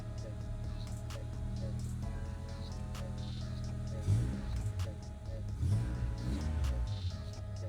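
A Honda Civic engine cranks and catches, then runs at a steady idle with rising revs and a few throttle blips, close and fairly loud throughout.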